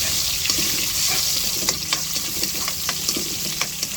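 Onion sautés in a pan for pinakbet, a steady close sizzle punctuated by regular sharp spatula taps and scrapes against the pan.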